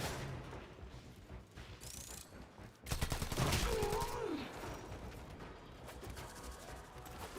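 Game gunfire from an online action game breaks out suddenly partway through as a rapid burst of shots with mechanical clanks. Lighter combat effects and background game sounds run under it.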